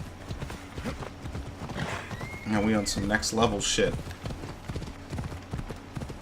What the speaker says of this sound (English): Let me use my horse.